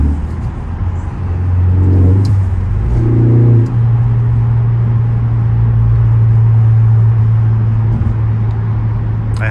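A 2013 Ford Focus ST3 cruises down a road. From inside the cabin comes a steady, fairly loud engine drone and tyre roar with slight swells in revs, continuous throughout and with no voices.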